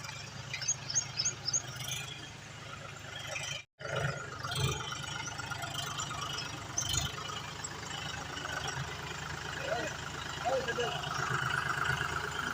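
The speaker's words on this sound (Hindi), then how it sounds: "पन्नास पन्नास डी ट्रैक्टर है जबरदस्त" A new John Deere 5050D tractor's engine runs steadily with a low rumble and rattle under continuous talk, during a village drive to a temple.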